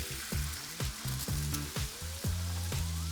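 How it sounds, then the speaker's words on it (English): Egg sizzling as it goes into a pan of fried rice ingredients with garlic, a close steady frying hiss under a series of rhythmic bumps and clatters from the pan. "Move everything to one side of the pan. Let's add that egg."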